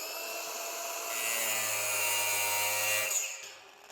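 Angle grinder cutting into the body panel of an Arrival electric UPS van, a steady loud high-pitched whine held for about two seconds before it spins down and stops.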